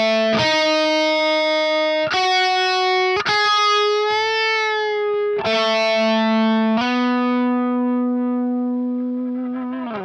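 Clean electric guitar, effects switched off, plays a riff: a slow series of sustained, bright chords changing every second or two, loud and alone throughout.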